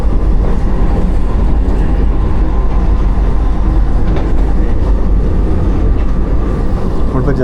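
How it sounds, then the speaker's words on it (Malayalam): Vande Bharat Express AC chair car on the Bengaluru to Ernakulam run rumbling past another train, a loud, steady wash of rail roar and low clatter with no clear pause through the whole stretch. "നമ്മളിപ്പോൾ ജസ്റ്റ് ഏതോ ഒരു ട്രെയിനെ ക്രോസ് ചെയ്തു."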